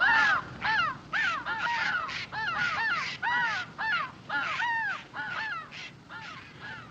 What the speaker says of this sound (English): The jays and the crows squawk at us when we pass.